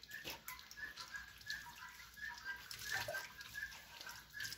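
Tap water runs and splashes continuously while pork intestines are rinsed over and over, a fairly quiet, uneven trickle with small drips and clinks.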